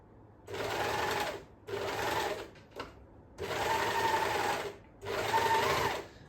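A Janome overlocker stitching fabric scrunchies runs in four steady bursts of whirring, a brief pause between each, fairly close and with no talking over it.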